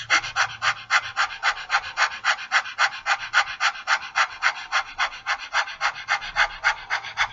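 Rapid, forceful breath exhales during a yoga-style breathing exercise, a close, evenly spaced series of about two dozen sharp puffs in a steady rhythm with no talk over them.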